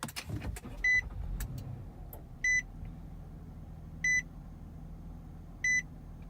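A 2014 Nissan Murano Platinum engine starts with a brief burst, then settles into a low, steady idle rumble heard from inside the cabin. Four evenly spaced chime beeps repeat over the idle.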